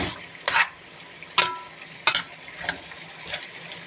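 Spiced chicken and potatoes are stirred in a frying pan, with several sharp scraping strokes spaced about a second apart over a faint sizzle.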